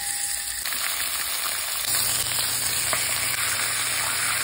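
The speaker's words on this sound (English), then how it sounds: "Sear the beef shank." Beef shank searing in an oiled pan after mushrooms were browned and removed; a steady, close sizzle runs throughout, growing slightly fuller partway through.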